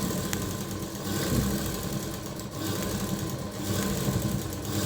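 Blouse fabric being stitched on a sewing machine, a steady continuous mechanical whir running throughout at a moderate, even level with no talking.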